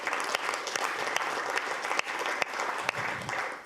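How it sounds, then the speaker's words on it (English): Audience applause after a call to thank a host team at a business session, a steady wash of many hands clapping at moderate volume throughout, with a few sharper individual claps standing out. "a huge round of applause to Stephen and his team"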